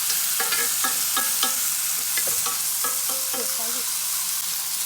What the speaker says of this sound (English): You just want to like put the butter over the meat so it gets